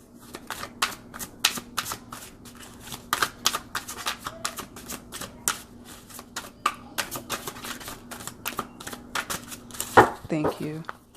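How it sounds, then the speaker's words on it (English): Tarot cards shuffled by hand in quick, crisp bursts of riffling and slapping, close and clear, with brief pauses between runs. "I don't consider the timer when I'm shuffling"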